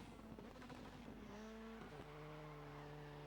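Rally car in a racing video game on an Australian stage, engine note climbing through gear changes with tire noise over gravel, fairly faint and steady, no talk.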